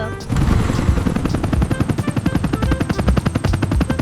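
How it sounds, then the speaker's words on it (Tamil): A helicopter's rotor beats out a steady, rapid thudding close by, loud and continuous throughout. "This is helicopter."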